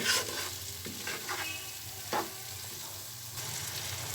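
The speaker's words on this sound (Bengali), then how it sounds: "এবার আমি দুটো বড় বড় সাইজের করে কেটে টমেটো অ্যাড করে দিচ্ছি, টমেটো কুচি" Chopped tomatoes drop into spice masala frying in a pan for a restaurant-style Bengali chicken tomato kosha, giving a steady close sizzle with a few scraping stirs and louder bursts as the pieces hit the oil.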